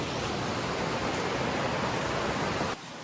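Water flows near the Goutameshwar Mahadev temple as a dense, continuous rushing wash, close and steady, that drops off abruptly near the end.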